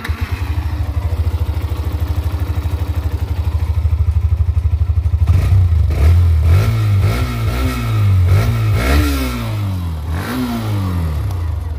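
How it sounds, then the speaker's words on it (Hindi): A Hero Xtreme 125R motorcycle engine idles with a steady low throb, then revs repeatedly, rising and falling in pitch several times, loud and close. "हाँ बाइक का साउंड भी बहुत इसका जोरदार है, अभी आपको साउंड वगैरह भी सुनाएंगे"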